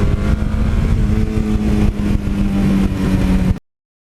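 A stock Suzuki GS1100E motorcycle engine running, a loud steady idle with a low pulsing hum that continues evenly up close before cutting off abruptly.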